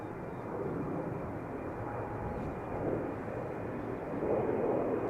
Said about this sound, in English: The first departure from the center runway has just taken off.